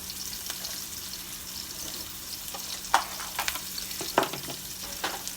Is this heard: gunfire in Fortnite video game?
no